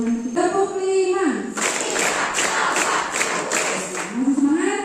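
Children and a leader at a Ramadan pesantren session chant, then break into a burst of rhythmic group clapping lasting a few seconds, loud and close, before the voices return.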